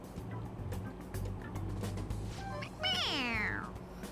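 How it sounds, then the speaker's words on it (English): A stuffed toy cat in Persona 5 Royal lets out a single drawn-out synthetic meow with a falling pitch. A low game-music rumble plays underneath it. "It meows when you press on its head."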